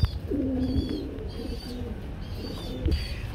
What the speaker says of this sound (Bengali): আমরা এখানে দেখতে পাচ্ছি ব্লোবারের মধ্যে এক জোড়া স্প্যানিশ চরের কবুতর রয়েছে